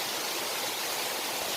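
Steady broadband roar of Vazhappara waterfall in a cool forested area, a constant close wash of falling water with no breaks or voices.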